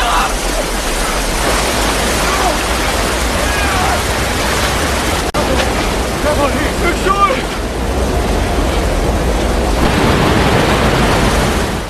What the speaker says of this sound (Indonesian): Ketika menyusuri sungai, mereka dikagetkan dengan suara air terjun.